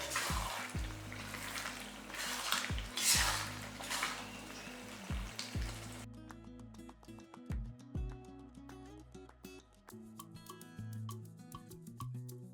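Brinjal thokku sizzles and simmers in separated oil in a pan over a medium flame, a steady crackling fry with intermittent stirring scrapes and pan knocks throughout, no talking.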